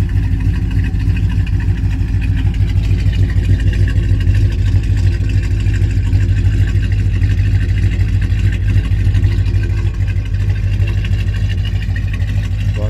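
A 1968 Plymouth Satellite with a factory dual exhaust idles steadily and evenly at close range, a deep continuous rumble with no voices over it.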